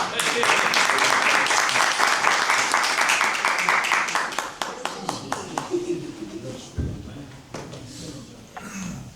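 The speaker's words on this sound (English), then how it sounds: "Please give a round of applause." An audience claps for an honoree at an awards presentation for top Asian Americans. Dense applause fills the first few seconds, then thins into scattered individual claps as voices talk nearby.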